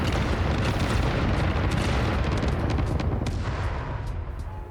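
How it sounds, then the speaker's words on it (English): A dense barrage of booming explosions in the factory-building video game Satisfactory, loud and continuous rumbling blasts that fade slightly toward the end. "This is going to be quite the set of explosions."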